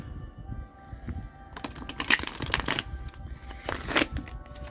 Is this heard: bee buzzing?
no